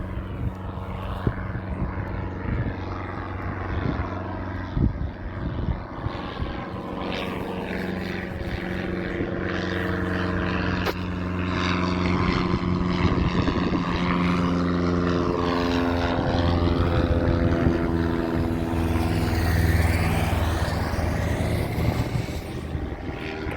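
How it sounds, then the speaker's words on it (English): A light propeller aircraft passing overhead near Warton, a steady loud engine drone that swells and shifts pitch as it goes by, alone with no voices for over twenty seconds. "think that's that same light aircraft that came through before"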